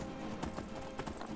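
Horse hooves clip-clop steadily along a road in a video game, a quick even rhythm of hoof strikes over a steady background hiss, with no talk.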